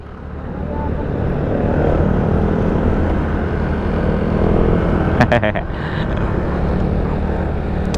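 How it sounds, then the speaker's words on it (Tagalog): A Yamaha MT8 motorcycle with an aftermarket racing muffler, its engine droning loud and steady throughout with a rough, throaty rumble, a couple of sharp clicks partway through. "Ayaw daw niya sa tunog ng muffler."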